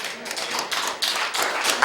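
A brief burst of audience applause at a civic honoring ceremony, many hands clapping in a steady dense patter for under two seconds.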